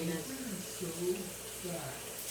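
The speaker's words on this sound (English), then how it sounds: "I'm going to put water in this" Tap water runs into a pot in a home kitchen as a soft steady hiss, largely under a person talking over it.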